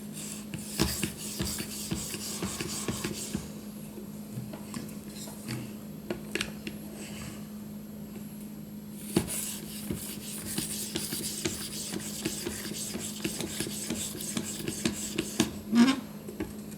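A knife edge is honed on an Edge Pro Apex sharpening kit with a slide guide, giving close, irregular scraping and rasping strokes of stone on steel, with small clicks scattered throughout.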